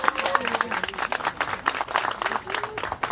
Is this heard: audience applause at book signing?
yes